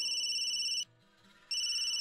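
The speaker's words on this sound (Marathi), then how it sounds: "तिचा फोन आहे." A telephone rings in a cafe scene from a Marathi TV serial: a loud, steady electronic ring in two bursts separated by a short pause, with no one talking.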